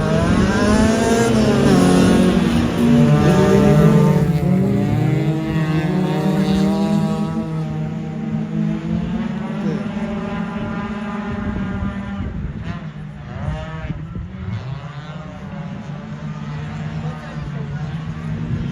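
Drift cars in the first heat of a race, engines revving and whining as they slide through a corner, loud and sweeping past with shifting pitch, while voices talk over the noise.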